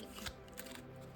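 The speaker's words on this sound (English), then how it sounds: "next I'm going to shuffle this deck" A deck of tarot cards being shuffled, soft quick riffling and flicking of cards, close and quiet.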